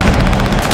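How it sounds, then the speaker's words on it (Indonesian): Loud, rapid gunfire rings out during an action movie car chase in which hunters and participants shoot at each other's cars, a dense, continuous burst of shots up close. "Peserta ketiga menembaki para pemburu."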